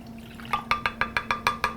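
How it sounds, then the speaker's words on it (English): About a third of a cup of orange juice goes into a cooking pot, heard as a quick, even series of eight close, quiet liquid splashes over a steady low hum. "now we need to add a little liquid. So about 1/3 cup of orange juice."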